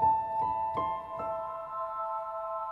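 Heavyocity Foundations Piano hybrid piano patch plays a few struck notes in quick succession, then a sustained tonal chord rings on evenly and alone, moderately quiet.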